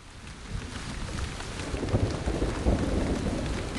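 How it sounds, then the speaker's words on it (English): Heavy rain pours down in a jungle, a dense, steady roar of drops hitting surfaces that builds slightly, with low rumbles mixed in and no voices. "In May, the rains came."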